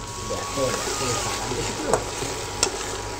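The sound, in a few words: spice paste frying in pan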